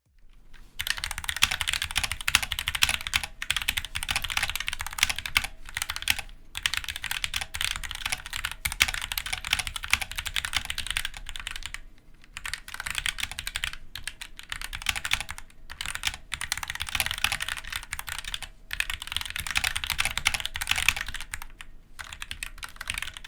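Fast continuous typing on a Roccat Vulcan TKL Pro mechanical keyboard, dense crisp key clicks in bursts with brief pauses, close up and alone with no talking.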